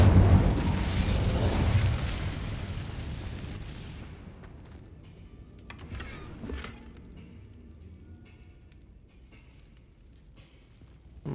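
The Incendio fire spell is cast in a video game: a loud burst of flame that roars and fades over several seconds, followed by a quieter crackle and a few scattered pops.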